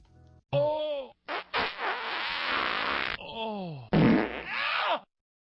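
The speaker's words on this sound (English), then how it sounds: "So yes, it is a fart noise." A cartoonish fart sound effect triggered from a Stream Deck soundboard button: a long, loud, wet raspy blast broken into several bursts with wobbling pitch, heard on its own.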